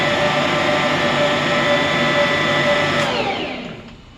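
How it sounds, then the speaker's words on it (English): A Bosch stand mixer with its whisk attachment beats muffin batter made with freshly milled flour, giving a loud, steady motor whir that runs unbroken for several seconds, then winds down and fades at the end. "I have the whisk attachment in my Bosch here, and this works great."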